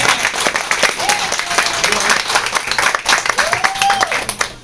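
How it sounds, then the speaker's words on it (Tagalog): Crowd at a corporate awarding ceremony claps hard in a loud, busy burst, with voices and a few whoops mixed into the applause. "bigyan naman natin ng palakpak ng MCB and welcome MP Jessie Hernandez"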